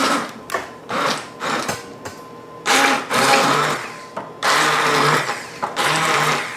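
An emulsifier stick blender whirs in short bursts in a home kitchen, its motor starting and stopping repeatedly, running close and fairly loud with brief pauses between each burst.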